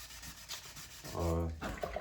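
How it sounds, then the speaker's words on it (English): Sandpaper rubbing over a hockey goalie mask to remove a printed Bauer emblem, a short rasping scrape that swells to a louder burst near the end, close and alone with no talk. "I always sand these off"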